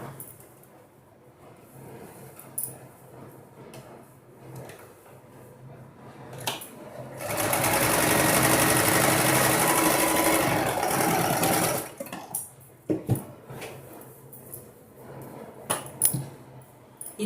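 A sewing machine stitches a single-pleat nighty in one continuous, steady whirring run of about four seconds, close and fairly loud, framed by quieter handling clicks and fabric rustles before and after.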